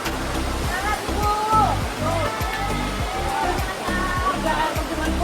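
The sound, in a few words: waterfalls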